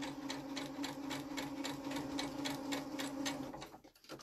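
A sewing machine stitches quilt pieces with a fast, even rattle of the needle that runs steadily and close before stopping abruptly near the end.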